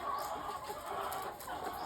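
18-week-old laying hens cluck and murmur steadily throughout, a dense flock sound heard close by with no talking.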